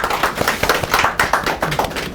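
Applause from an audience at a forum lecture, a short patter of hand claps with soft, irregular impacts close together, steady for about two seconds with no voices.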